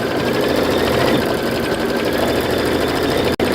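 A sewing machine stitching a buttonhole tack stitch, a loud, steady rapid mechanical whir close up that runs continuously before cutting off abruptly near the end.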